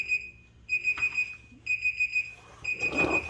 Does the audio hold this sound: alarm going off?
yes